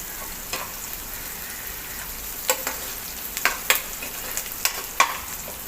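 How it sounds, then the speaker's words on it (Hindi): Sliced onions fry with salt in a pan for dhaba-style Punjabi rajma masala, giving a steady soft sizzle broken by scattered sharp crackles and spatters, heard close and alone with no talk. "नमक डाल देती हूँ मैं, जल्दी से प्याज ब्राउन हो जाए"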